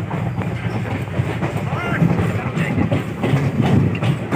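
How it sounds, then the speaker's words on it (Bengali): A passenger train running north on rails in Odisha, heard from inside a sleeper coach: a steady low rumble with a faint rhythmic rattle of wheels and carriage that holds at an even level throughout. "বর্তমান ট্রেনটা তার সময়ের সাথে তাল মিলিয়ে অবিরাম উত্তরের দিকে উড়িষ্যার ভুবনেশ্বর রেল স্টেশনের দিকে ছুটতেছে"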